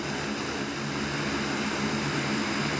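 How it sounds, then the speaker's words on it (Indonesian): A Super Hercules air force heavy transport aircraft lands at Minangkabau International Airport in Padang, carrying disaster aid, its engines a loud, steady, close roar throughout. "Pesawat angkut berat TNI Angkatan Udara yang membawa bantuan penanganan bencana telah mendarat di Padang, Sumatera Barat dan Aceh Besar, Provinsi Aceh"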